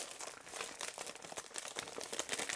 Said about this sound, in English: can we please talk about the sounds that the paper makes when it is dyed?